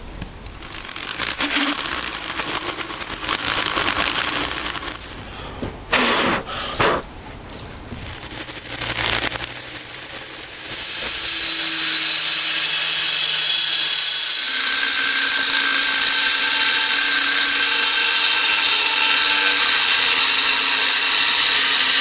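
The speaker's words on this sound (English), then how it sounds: "I want to pop out these two holes right here, and then we're going to move on to cutting out the rest of these curved shapes" A power tool cuts and drills steel for a homemade knife, with loud continuous grinding and whining that breaks off briefly, then settles into a steady high-pitched buzz.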